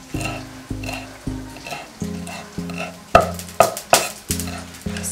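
Homemade hash browns sizzling in a frying pan, a close steady crackle broken by rhythmic scraping strokes and a few sharp utensil clinks against the pan.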